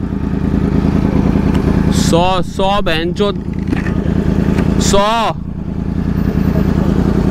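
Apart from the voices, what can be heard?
Kawasaki and Yamaha R1 motorcycles revving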